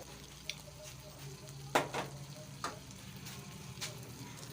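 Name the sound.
stirring peas into mutton masala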